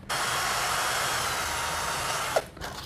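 A Hiroki HRCBP21 impact drill polisher motor runs at a steady, smooth whir for a few seconds, then cuts off abruptly near the end, leaving a brief quieter tail.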